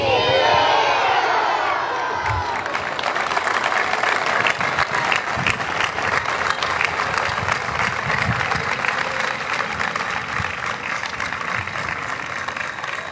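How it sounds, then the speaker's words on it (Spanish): Loud, sustained applause from a school audience at a flag pledge ceremony, with cheering, whoops and children shouting mixed into the dense clapping, starting right after a voice fades. "Fuerte el aplauso"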